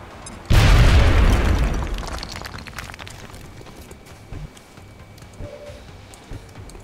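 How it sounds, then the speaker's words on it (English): A grenade explodes in the XCOM Long War video game, a single loud close boom that decays over a couple of seconds into quieter debris rumble and faint game ambience. "Grenade out."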